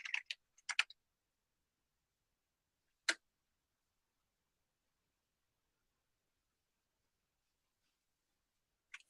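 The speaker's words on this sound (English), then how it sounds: "So I'm going to go ahead and type make install." A few quick computer keyboard keystrokes come in short bursts, then a single click and a last brief patter, each isolated against near silence.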